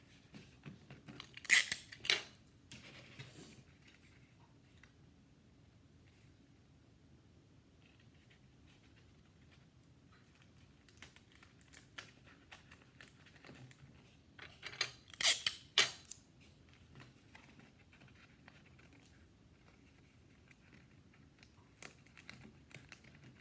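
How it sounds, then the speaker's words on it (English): Tape is pulled and pressed onto a paper marble roller coaster hill. Quiet handling noise is broken by two sharp bursts of tape tearing and crackling, one near the start and one about two-thirds through. "I'm going to put inside my hill and tape that together."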